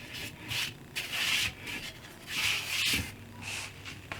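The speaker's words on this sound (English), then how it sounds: "I will do a sand on the sides and the top" Sandpaper rubs over the wooden sides and top of a homemade beer pong table in slow, even back-and-forth strokes, a close, hissing scrape that rises and falls about once a second, with no voices.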